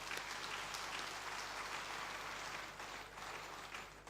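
An audience at an engineering assembly's technical session applauds a speaker, a steady sustained patter of many hands clapping, moderately distant and even, fading slightly toward the end with no talk over it.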